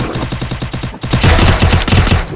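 Rapid automatic gunfire rattles through a Counter-Strike style shooting game match, loud bursts in a fast steady rhythm with a short gap near the one-second mark.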